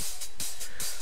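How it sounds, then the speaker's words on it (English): A fast, hissy hi-hat loop from a sample pack repeats in quick, even pulses within a future bass drop, bright and continuous with a light rhythmic wash. "and then I added this hat loop"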